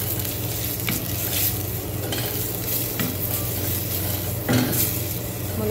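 Onions fry in hot oil in a pot while being stirred, a steady crackling sizzle with occasional scraping knocks of the utensil against the pot, close and continuous.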